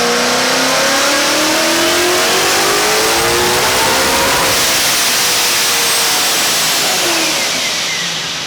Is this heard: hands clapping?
no